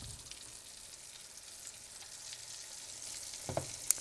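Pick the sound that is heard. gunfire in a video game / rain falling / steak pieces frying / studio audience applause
steak pieces frying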